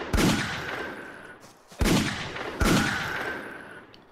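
Three loud gunshots boom in the pirate survival RPG Mutiny, each with a sharp crack and a long ringing decay, spaced about a second apart with no speech.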